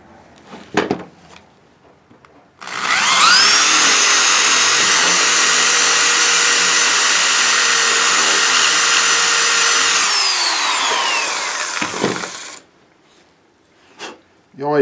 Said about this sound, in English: You always take a risk when you're drilling something like that.